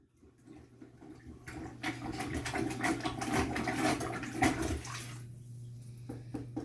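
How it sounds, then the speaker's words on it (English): Sloshing, gurgling water churned by repeated plunging in a toilet bowl, swelling in the middle and easing off toward the end, close by. "now we're going to get as much water out of the bowl as we can just by simply plunging."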